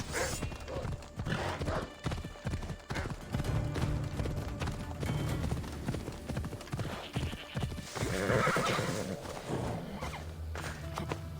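Horse hooves clip-clop steadily at a walking pace in Assassin's Creed Odyssey, with an occasional whinny, over a continuous background of ambient music and rumble.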